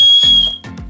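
A small toy whistle from a snack mystery box gives a shrill, steady high whistle, blown loudly up close, followed by a couple of shorter toots.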